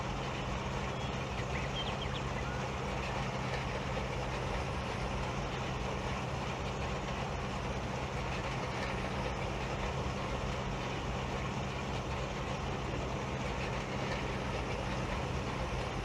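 A small tractor engine drones steadily while pulling a trailer in a farming video game, a continuous low rumbling hum with no talking.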